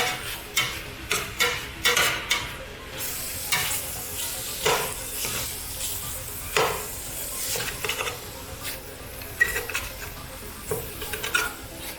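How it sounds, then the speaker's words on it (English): Chili being stirred in a pot with pork and bacon fat rendering at the bottom: repeated scraping spoon strokes over a steady background sizzle, close and fairly loud. "let's give us another little stir"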